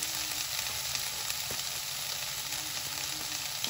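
Chicken stuffing with cabbage cooks in a pan, a continuous close sizzle with faint scattered crackles and occasional soft stirring clicks, no talking.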